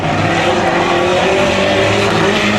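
Race car on a 250 speedway track accelerating out of a turn, its loud engine roaring continuously and close with no pauses.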